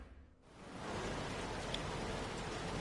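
Steady rain hisses as a broad, even wash of noise on Montreal's track in F1 2016, swelling in after a brief quieter moment and then holding constant, with no voices.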